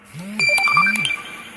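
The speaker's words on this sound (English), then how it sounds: "Sorry, that's my phone." A mobile phone ringtone chirps through a short electronic melody of rising and falling tones with a few bright pings, clear and close, with no talk over it.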